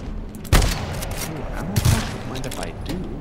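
Gunfire in the video game GTFO: a loud close shot and a second sharp burst stand out over a busy game soundscape while voices talk throughout.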